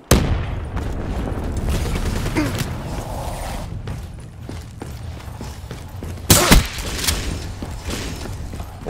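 Grenade explosion in Call of Duty Black Ops 3 multiplayer, one sharp loud boom partway through, set against steady battle noise and scattered gunfire.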